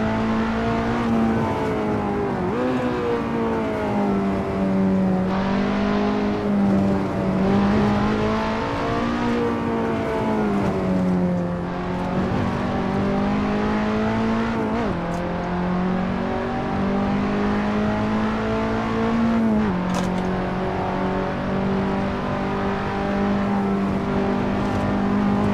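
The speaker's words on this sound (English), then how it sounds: "I couldn't hear it over the roar of the engine there." A race car engine roars steadily in Assetto Corsa, the pitch rising and falling through gear shifts across a long continuous stretch with no voices.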